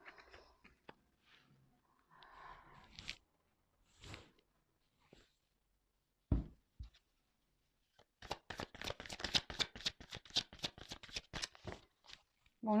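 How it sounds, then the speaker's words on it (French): Tarot cards being shuffled and drawn, with scattered soft flicks and taps early on, then a dense run of rapid riffling snaps near the end, close and crisp. "Je vais prendre d'autres cartes, hein."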